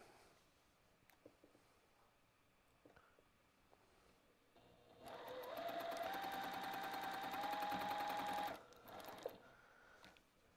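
A home sewing machine quilts stitching lines through a fabric postcard with batting, running steadily for about three and a half seconds at close range after quieter handling noises, then stopping.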